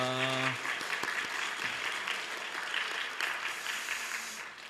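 Congregation applause fills a church, steady clapping from many people, with a brief sustained tone fading at the start.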